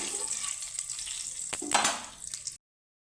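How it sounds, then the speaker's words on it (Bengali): Panch phoron spices frying in white oil, with a continuous hiss, a couple of spatula scrapes and a brief louder burst of sizzling before the sound cuts off. "পাঁচ ফোড়নটাকে আমি হালকা একটু ভেজে নেব"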